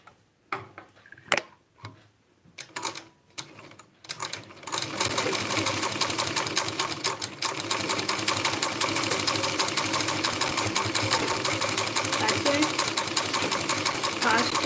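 A sewing machine stitches a second reinforcing seam after a few separate clicks and knocks, then hums along steadily and close for about ten seconds with rapid, even needle ticking.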